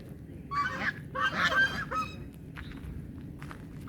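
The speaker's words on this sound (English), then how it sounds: "And they're the girl geese." Several female geese honk in a brief cluster of overlapping calls, then fade to quieter background noise.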